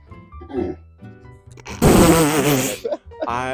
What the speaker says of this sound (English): I had to, like, burp and cough at the same time.